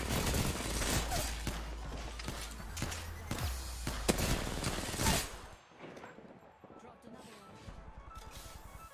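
Charge rifle fire in the video game Apex Legends comes as dense, crackling bursts with heavy low booms for about five seconds, then fades to quieter action, with a player talking throughout.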